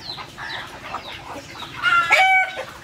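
A hen clucks and calls in short, close bursts while someone tries to catch her on a farm, with a louder squawking flurry near the end.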